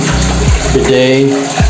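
A bidet hose sprays water in a resort bathroom, a close, steady hissing gush with short low thumps at the start and end.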